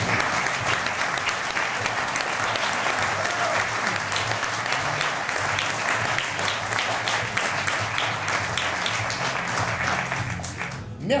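Sustained audience applause at a French comedy show, dense steady clapping from a large crowd filling the whole stretch before tapering off at the very end.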